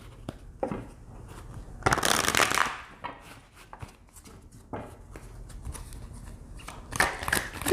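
Tarot cards riffle and shuffle in a loud burst near the middle and again at the end, with soft handling taps and rustles between.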